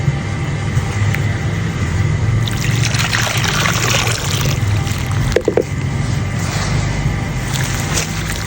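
Water pours steadily into a bowl of flour dough for shaping, a soft continuous trickle and splash up close, with a brief clatter midway and no talking.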